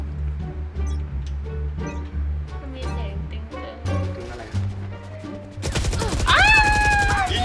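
Rapid gunfire in the video game Valorant, a dense burst of loud shots that starts partway through and continues to the end, following a stretch of voices and background game sounds.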